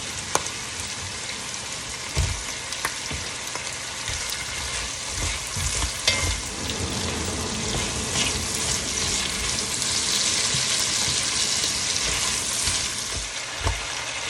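Minced pepper fries in oil with garlic and onion in a pan for Batangas-style beef kaldereta, a loud, steady sizzle with occasional stirring clatters and scrapes throughout.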